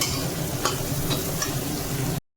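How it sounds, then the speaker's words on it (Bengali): Onion stirred and fried in a pan for chow mein, a constant close sizzle broken by a few soft clicks of the spatula, ending abruptly. "পেঁয়াজটা আবার এখন আলাদা করে অ্যাড করলাম, তার জন্য আরেকটু নাড়াতে হবে, মানে ভালো করে ফ্রাই করতে।"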